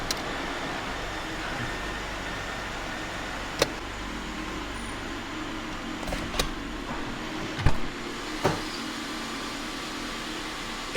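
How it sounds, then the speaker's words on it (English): A car engine idles steadily with a constant low hum as the car is shifted into gear and rolled forward and back, with a few soft clunks and knocks, and no talking. "I'm going to put it in gear and like move forward and backward to simulate we just drove."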